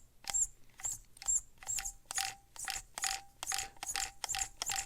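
A small steering servo on an SCX24 RC crawler running at 6.5 volts whirs in about a dozen quick, evenly spaced bursts, each a short buzzy gear-grinding pulse, close and fairly quiet.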